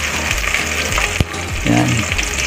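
Ginger sizzles in hot oil in a pot for tinolang manok, a loud, steady frying hiss close up with scraping stirs and a brief clank partway through.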